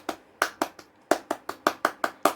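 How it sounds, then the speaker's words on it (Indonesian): A class of schoolchildren claps together in a rhythmic encouragement cheer, roughly ten sharp, evenly spaced claps in quick groups, loud and close, with no talking. "3 kali tepuk semangat."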